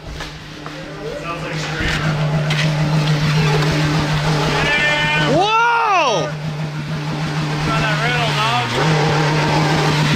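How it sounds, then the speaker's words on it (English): A revving 300 hp Maverick X3 engine drones steadily with rising and falling sweeps as it bounces off its rev limiter, while people talk and someone exclaims over it. "is that a rev limiter bounce?"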